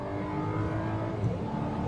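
Four-cylinder engine of a 2024 VW Atlas SEL Premium R-Line midsize SUV accelerating from a stop, a steady broadband drone heard from the cabin, with no talk.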